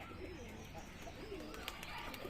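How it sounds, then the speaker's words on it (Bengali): Pigeons on a rooftop give soft, low, rolling coos, faint and close, with a few brief chirps mixed in. "পায়রাগুলো তো আমার জন্য সব বসে আছে অপেক্ষা করে কখন খেতে দেবো এই যে এই পায়রাগুলো"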